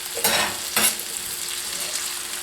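Potatoes go into a hot pan to brown for a braised chicken and vegetable dish, giving a steady close sizzle with two brief louder bursts of stirring and spattering.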